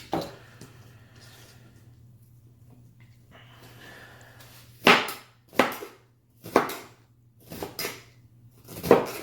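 Knife dicing onion on a cutting board while making a burger patty mix, heard as a run of about five sharp, close chopping knocks in loose rhythm after a quieter stretch of soft kitchen handling.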